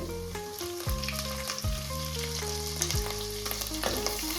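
Crushed ginger, garlic and green chillies frying in hot oil in a pan, a loud continuous sizzle with occasional stirring scrapes and background music playing underneath, no talking.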